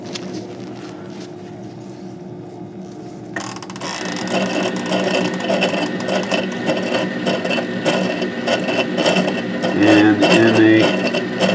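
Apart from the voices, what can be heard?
laboratory rotator mixing antibody specimens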